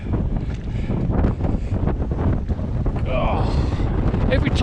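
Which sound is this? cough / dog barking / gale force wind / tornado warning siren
gale force wind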